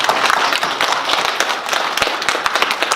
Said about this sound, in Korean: 우리 옆에 분들하고 우리 박수 한번 하도록 하겠습니다